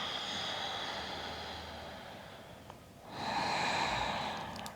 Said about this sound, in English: long, slow breath out